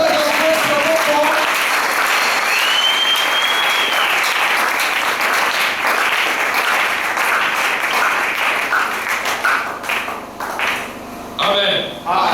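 A church congregation applauds steadily and loudly throughout, a dense wash of clapping that thins and turns patchier toward the end, with voices mixed in.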